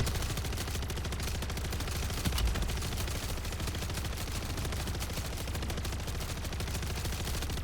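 Sustained laser weapon fire in MW3 Zombies, a continuous buzzing, crackling stream with rapid pulsing that runs unbroken at steady loudness for the whole stretch, loud and close, with no talking.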